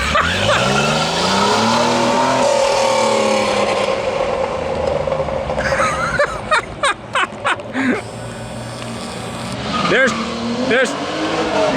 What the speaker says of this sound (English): There's Jared driving his Lamborghini